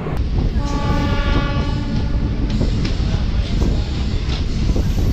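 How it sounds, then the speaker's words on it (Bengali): A DEMU local train on the Siliguri–Dooars route runs at speed near 95 km/h, with a loud steady rumble and wheel noise, and a horn sounding early on. "ট্রেনের এখন স্পিড চলছে 93 ভাই"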